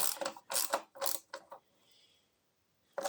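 A ratchet wrench tightens a 7/16 bolt on a Briggs & Stratton opposed-twin engine, giving several close, loud bursts of rapid pawl clicking. A short quiet pause follows, then another brief burst.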